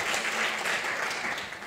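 A short burst of audience applause at a Dutch discussion evening, a dense, steady patter of many hands clapping that fades slightly at the end.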